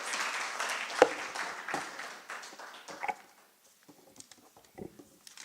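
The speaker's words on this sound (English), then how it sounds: "can we please give him a round of applause?" Scattered applause at a hybrid annual general meeting for a board member, a thin patter of a few hands that fades to isolated claps and near silence.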